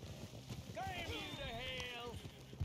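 A horse gallops in the Western video game Red Dead Online, its hoofbeats faint and rhythmic beneath excited talk and a sharp whistling, whooshing effect sweeping through the middle.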